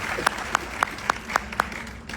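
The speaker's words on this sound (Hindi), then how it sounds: "तो जोरदार तालियां आपके लुधियाना की शान सुनील अग्रवाल जी को।" An audience at a network marketing event honours Sunil Agarwal of Ludhiana with about six sharp claps in a steady, evenly spaced rhythm, faint against a quiet room.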